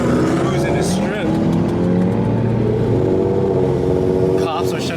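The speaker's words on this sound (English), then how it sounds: "1 a.m. and there's people still cruising the strip." Cars cruising a busy strip at night in Gatlinburg, a steady close engine drone with passing vehicles and occasional revving, with people talking over it throughout.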